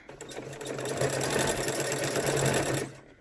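A sewing machine runs steadily for about three seconds, stitching through layered fabric for a wipe, its rapid even whir holding at close range and then stopping.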